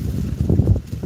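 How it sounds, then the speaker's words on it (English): Gusting outdoor wind buffets the microphone with a steady low rumble that swells and dips over about a second, with no voices heard. "Whoa, it's windy."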